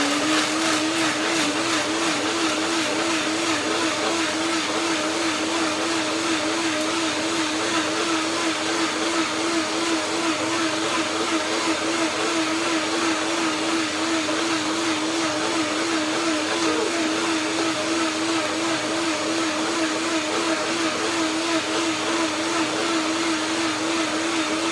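A kitchen blender runs during preparation of a raw vegan carrot salad with parsley coconut cream, its motor a loud, steady, continuous whine that holds unchanged for the whole stretch with no talking.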